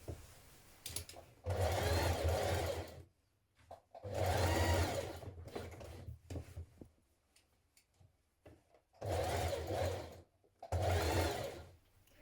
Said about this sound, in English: We're going to stitch all the way down the side seam